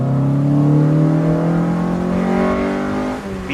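Honda Civic Si EM1 engine revving up into VTEC, a loud, steady climbing drone with strong harmonics that rises in pitch through the run, easing off briefly near the end.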